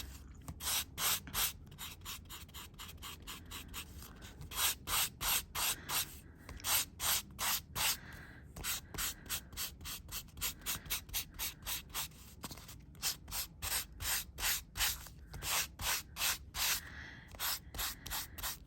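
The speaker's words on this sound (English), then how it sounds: "let's use our buff, and this is a very worn buff, to gently rub off the ink" A very worn buff rubs ink off inked metal tape in a craft piece, making a steady run of close, brisk scrubbing strokes in fast repeated bursts over many seconds, quiet overall and with no talk.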